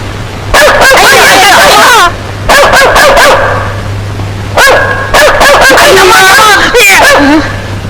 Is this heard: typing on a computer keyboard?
no